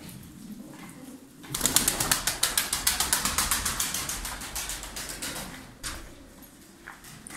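Pigeons in a loft holding a large flock for sale: a sudden burst of rapid, rhythmic wing flapping erupts close by and pulses on for several seconds before tapering, with softer fluttering after.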